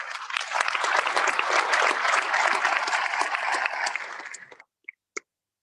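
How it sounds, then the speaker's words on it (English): A conference plenary audience gives dense, steady applause that fades out after about four and a half seconds, followed by a couple of isolated late claps in near silence. "A round of applause."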